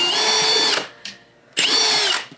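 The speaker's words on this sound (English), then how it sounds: "Using the wrong drill all these years." Power drill for hanging curtains whirring in two loud, close bursts of about three-quarters of a second each, split by a short pause with a brief squeak.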